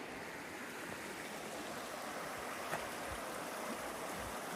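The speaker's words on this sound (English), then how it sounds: "we are crossing the Waptus River." The Waptus River, a glacial stream in Washington along the Pacific Crest Trail, rushes steadily over boulders, a continuous broadband wash of flowing water heard close by and alone.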